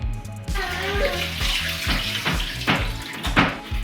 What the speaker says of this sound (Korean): 이렇게 배추 물에 한번 헹궈서